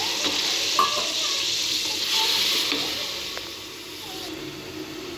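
Bottle gourd sizzles in a hot pan as a little water goes in, a bright steady hiss that swells then gradually settles, with occasional light clinks of stirring.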